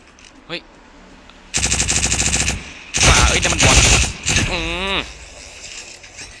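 Gunfire in the mobile video game Cyber Hunter: loud sustained automatic bursts with rapid rhythmic shots, a second burst, then whooshing effects, with a man's brief exclamations between them.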